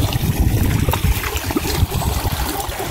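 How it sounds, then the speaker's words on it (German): Brook water trickles and burbles on a donkey hike in the Algarve, Portugal, close and fairly loud with a steady gurgling wash and no talking. "Hier haben wir jetzt eben gerade den Bach erreicht und schaut mal her."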